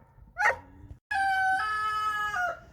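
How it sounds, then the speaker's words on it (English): On a farm raising bottle calves, a rooster gives a short call, then after a brief silence a second loud, clear, drawn-out crow rings out close by, with no talk. "now I've got loud roosters too"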